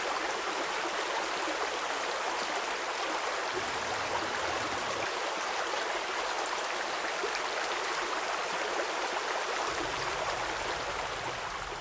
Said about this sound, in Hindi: हर दिन हमारे घर पर पानी क्यों फेंकते रहते हो?